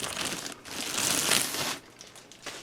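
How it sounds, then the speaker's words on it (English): A boxed toy figure is pulled from a plastic bag, giving a loud, continuous crinkling that swells in the middle and then eases into lighter rustles. "So taking it out of the plastic bag"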